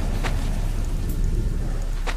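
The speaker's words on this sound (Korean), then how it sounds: "조금 번개 소리" Rain and thunder inside the horror video game Sophie's Curse: a steady hiss of rainfall runs throughout, with brief faint rumbles or crackles near the start and end.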